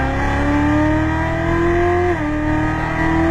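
A car at full throttle on a race track, its engine note climbing steadily in a loud continuous drone before a brief dip as it shifts, then pulling on strongly.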